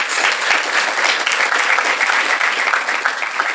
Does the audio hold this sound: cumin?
no